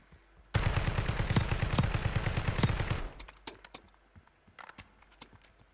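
A rapid, loud burst of automatic gunfire in Call of Duty: Warzone, about two and a half seconds of continuous shots, then scattered quieter clicks and single pops.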